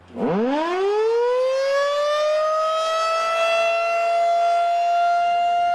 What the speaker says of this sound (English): I'm standing underneath one of Pulaski County's outdoor warning sirens